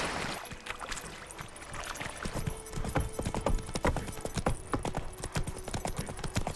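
Roach the horse in The Witcher 3 trots steadily with clear, rhythmic hoof clip-clops throughout, set against an ambient outdoor backdrop, with no talking.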